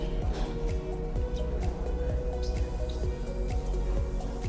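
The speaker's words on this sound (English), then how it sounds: "We squeeze the water a little bit" Water squeezed from sphagnum moss while potting tissue-culture plants, a series of close, soft drips and squishy sounds falling at a steady, slightly irregular pace, with no talk.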